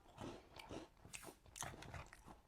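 Crunchy Créa d'Or shortbread biscuit being bitten and chewed close up, several crisp crunches in irregular bursts, fairly quiet.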